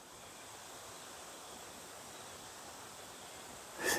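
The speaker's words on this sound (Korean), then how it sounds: "나는 저기 물소리가 들리는데, 계곡 물소리 들리고" Steady, soft rushing water from a mountain valley stream at Deokpung Valley flows continuously at a distance, a gentle broadband wash, with a brief brighter splash near the end.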